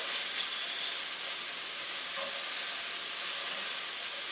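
Steak sizzles hard in a hot pan for a cheese steak wrap, a loud, steady, bright hiss that carries on without a break and with no talking.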